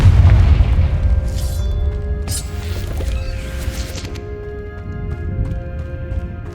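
Confringo, an explosive fire spell cast in Hogwarts Legacy, erupts in a loud, deep boom that opens the clip, followed by crackling debris and a ringing magical tail that fades slowly.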